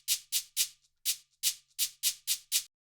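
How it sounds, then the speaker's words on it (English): Layered shaker hits from an Afro Tech beat, bright and crisp, about nine short strikes in a loose syncopated pattern with a brief gap, each with a soft swishing tail, up close with no voices. "Then some nice shaker shots and I layered these two."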